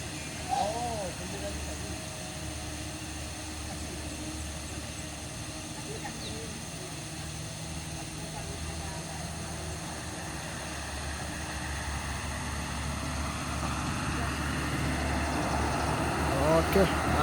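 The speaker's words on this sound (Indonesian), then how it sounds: "Truk diesel Euro 4." A Euro 4 diesel truck engine labours steadily up the Kedabuhan hill, a continuous low drone that swells slightly louder toward the end, with no voices.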